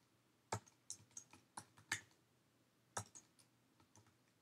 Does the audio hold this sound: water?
no